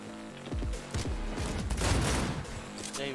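Rapid gunfire bursts crack and boom in the video game Cyberpunk 2077, with several loud volleys of shots following one another closely, each ending in a rumbling tail, and the heaviest cluster comes near the middle.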